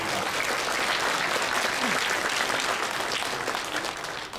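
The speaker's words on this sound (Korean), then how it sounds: "특별히 박수를 보내주시기 바랍니다" Audience applause fills a Korean award ceremony commemorating the 70th anniversary of liberation, a dense, steady wash of clapping from a large crowd that holds for several seconds before easing slightly at the end.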